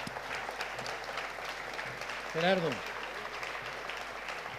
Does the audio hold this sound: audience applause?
yes